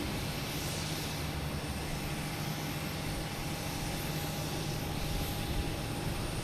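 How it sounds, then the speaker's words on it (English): An American Airlines Airbus A319 airliner bound for DC at Boston Logan Airport gives off a continuous, even jet engine drone that holds at a constant level from start to finish. "an A319 heading to DC."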